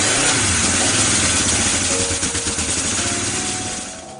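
A restored Honda CB450 motorcycle with a freshly rebuilt engine runs at its first startup, giving a loud, steady close-up idle with a faint rhythmic pulsing that eases off slightly toward the end.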